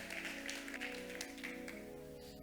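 Steady clapping from a church congregation, continuous and even, layered over a sustained musical hum with no talking.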